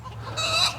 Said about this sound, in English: Oh, chicken must be laying eggs in there.